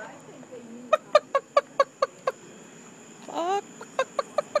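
A chicken clucks in a parking lot, a quick run of sharp, evenly spaced clucks, then a brief squawk and another burst of clucks, fairly close and clear.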